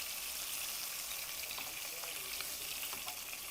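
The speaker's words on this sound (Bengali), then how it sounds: "পাঙ্গাস মাছের টুকরোগুলোকে খুব কড়া করে ভেজে নিয়েছি" Pangas fish pieces deep-frying crisp in hot oil give a dense, continuous sizzle and crackle, close and steady throughout, with no voices.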